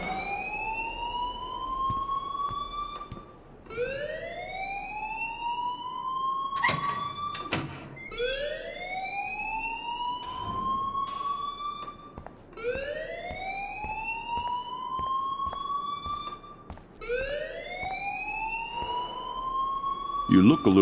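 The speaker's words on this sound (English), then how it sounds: "please turn off that alarm since that's your job" A fire alarm wails in the Life is Strange video game, repeating a rising electronic siren sweep about every four seconds throughout. Faint clicks and brief background sounds sit beneath it.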